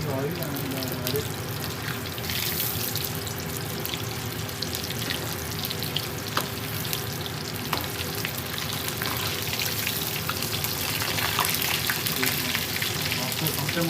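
Food frying in hot oil gives a steady, dense sizzle with scattered pops and spits throughout, moderately loud and close, with faint voice-like sounds in the background.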